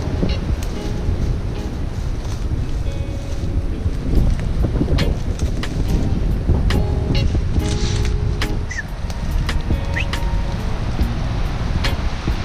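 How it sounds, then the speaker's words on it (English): Strong wind in New Zealand's Ruahine ranges, a loud, steady rushing roar buffeting the microphone throughout, with scattered faint clicks and bird calls underneath. "It's bloody windy as."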